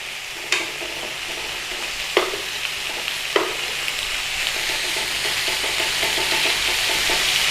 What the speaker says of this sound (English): in a pan with some bacon, I'm using streaky end bacon. I've cut it all up into little cubes, and we're going to fry it off till it's crispy